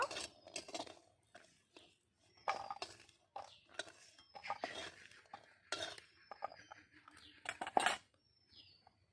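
Fried lentil dumplings seasoned with salt and turmeric are lifted from a pan with a metal utensil, making sharp, irregular scrapes and clinks close up with quiet gaps between them.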